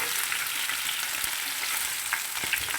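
Baby potatoes browning in a frying pan give off a steady, close, bright sizzle. Faint clicks of stirring break through it now and then, and no one speaks.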